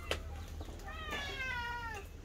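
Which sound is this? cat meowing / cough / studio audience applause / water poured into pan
cat meowing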